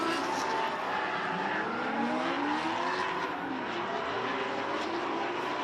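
Drift cars at a South Australian state series round, a Ute and a Holden VE Commodore chasing, engines roaring and tires squealing continuously with rising and falling revs, loud and close.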